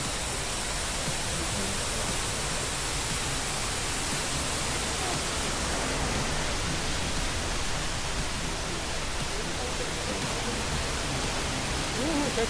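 The Mridugandha waterfall in the Daringbadi pine forest gives a dense, unbroken rush of falling water, loud and close, filling the whole stretch with a steady roar.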